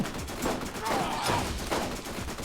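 Rapid gunfire in the Borderlands video game, a dense fusillade of repeated shots running through the whole stretch at steady loudness, with a voice talking over it.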